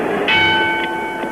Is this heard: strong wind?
no